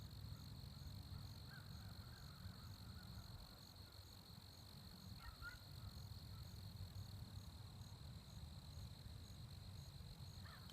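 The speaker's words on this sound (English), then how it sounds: "I can hear frogs and crickets and grasshoppers." Insects and frogs chorus in Missouri tallgrass prairie, a steady faint hum with a continuous high insect drone and occasional brief chirps over low rumbling background, no voices.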